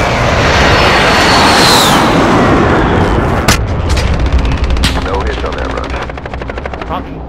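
Airstrike explosions in Call of Duty: Modern Warfare: a loud, sustained roaring blast that rumbles and fades, followed by several sharp cracks and rattling gunfire.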